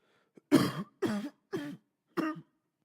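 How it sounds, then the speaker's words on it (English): A man coughs four times in a row, short harsh throaty bursts evenly spaced, close and clear with silence between them. "He drops the fork and begins to cough and convulse slightly."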